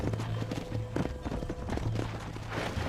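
Horse hooves clip-clop at a steady walking pace, led uphill toward home in the Red Dead Redemption video game, close and moderately loud over a low rumbling background.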